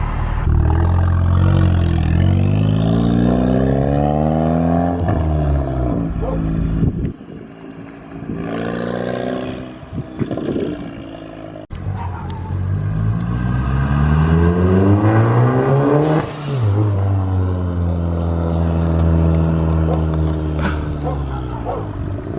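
An MK7 Golf R fitted with a Turbosmart blow-off valve accelerates hard, its engine climbing through gears with loud rising revs, brief drops between shifts, close and dominant, with faint voices underneath.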